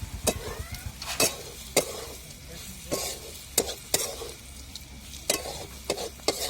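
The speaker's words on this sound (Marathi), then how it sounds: "शेंगदाण्याचा कूट सगळ्या मसाल्यात असा चांगला परतून घ्यायचा." Drumstick masala with peanut powder being stir-fried in a pan, a steady sizzle with repeated sharp scrapes and clinks of a spatula against the metal, close and alone.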